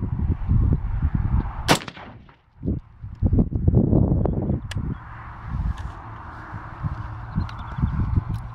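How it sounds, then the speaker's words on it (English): A rifle in 6mm ARC firing 103 grain ELDX bullets at a target range: one sharp, loud report cuts through steady outdoor noise, followed by a brief quiet spell and a stretch of busy rustling and handling sounds. "first shot to see the pressure and show it to you"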